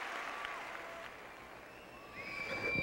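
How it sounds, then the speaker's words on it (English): A large arena crowd applauds a men's figure skater at the 1998 U.S. Pro Figure Skating Championships, a steady, fairly distant wash of clapping that swells slightly toward the end as faint musical tones begin. "A warm reception from a crowd that remembers that day very well."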